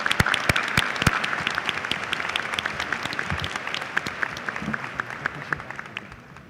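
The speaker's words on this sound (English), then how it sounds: "Please give us a round of applause" A graduation ceremony crowd at a high school breaks into applause, opening with a few sharp, close claps that swell into a thick, sustained ripple of clapping before slowly tapering off.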